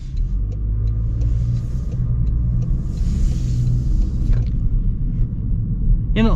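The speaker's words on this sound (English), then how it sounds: "You get a decent amount of road noise from the tires and everything, but it's not extreme" Steady low road and tire roar from inside a moving 2025 Toyota Corolla FX, a constant rumble with faint clicks and a brief squeak near the end, no one speaking.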